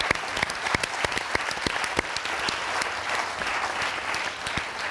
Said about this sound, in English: a, round of applause at this point is